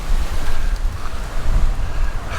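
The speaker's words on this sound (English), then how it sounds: "And the wind is picking up." Strong wind buffets the microphone on the Kauai coast at Kōloa, a loud continuous roar with gusting low rumble and a surf-like wash.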